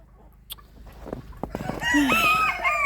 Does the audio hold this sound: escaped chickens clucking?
yes